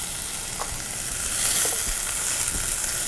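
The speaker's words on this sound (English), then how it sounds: "Give it a nice stir." Herbs and salt being stirred in a sizzling pan, a steady close frying hiss with soft scraping stir strokes throughout.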